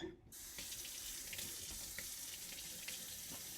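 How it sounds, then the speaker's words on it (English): Cold tap water runs steadily into a sink while berries, lemons and grapefruit are rinsed, a continuous close splashing hiss with no talking. "we're going to rinse them really well with cold water"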